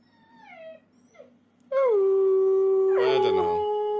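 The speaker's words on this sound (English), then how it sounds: "Nova and him are just howling" Two dogs, one named Nova, howl together, starting with faint rising wails that break into a loud, sustained, wavering howl lasting several seconds, with a second voice joining near the end.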